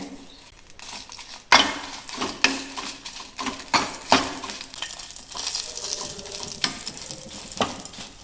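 Chillies frying in a little oil in a pan for a masala, sizzling quietly while a utensil clinks and scrapes against the metal in irregular sharp taps.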